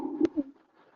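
A person imitates an Asian koel call with a brief hoarse voiced note and a short second hoot, close and alone, at an informal musical talent show.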